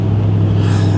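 Low-slung stance car pulling away, its exhaust rumbling steadily and close by for a brief moment, with no talk.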